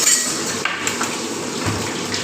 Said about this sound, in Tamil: பொன் பொருவலாக கிண்டிக்கிட்டே இருக்கணும்.